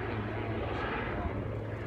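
A helicopter following the Tour de Yorkshire cycle race drones overhead, a steady, fairly distant rotor-and-engine rumble that holds level throughout, with someone talking over it.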